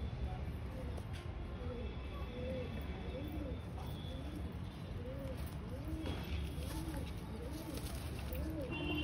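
Several pigeons coo steadily in soft overlapping rolls through a constant background hum, somewhat distant and faint, with no voices.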